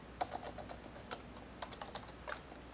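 Someone types on a computer keyboard, giving a short run of faint, close key taps in an irregular rhythm against quiet background hiss.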